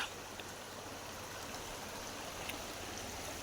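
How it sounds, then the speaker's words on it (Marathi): A river swollen by heavy Konkan monsoon rain flows with a faint, steady, even rush of water, constant and without voices. "पाणी कसला भरला बघा नदीत"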